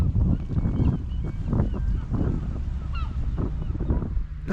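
Seagulls call over rock pools on a beach, repeated honking cries scattered across the moment, close and loud against gusty wind noise buffeting the microphone.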